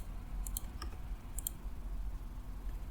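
A faint pair of crisp computer mouse clicks, made while saving a form, sounds over quiet room hiss, with a couple of softer ticks between them.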